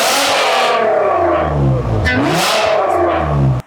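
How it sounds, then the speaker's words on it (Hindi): A supercharged, modified Mazda RX-8 fitted with a 2GR engine, heard up close as it starts and revs loudly, rising twice in pitch before cutting off abruptly. "गाड़ी का स्टार्टअप मैं आपको दिखा देता हूँ।"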